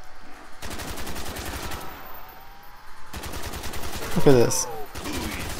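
Rapid automatic gunfire in Black Ops Zombies, sustained bursts rattling on and off with brief gaps, while someone talks over the shooting.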